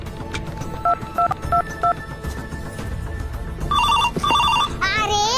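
A telephone rings in short repeated double bursts, followed by a trilling ringtone and warbling electronic tones, all over a steady background hum with little talk.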